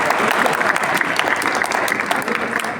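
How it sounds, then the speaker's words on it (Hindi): Applause from an audience at a Republic Day program held by Arya Samaj in Noida, dense steady clapping that carries on throughout, fairly close and without any speech. "चलो तालियां बजाओ गणवेश के लिए।"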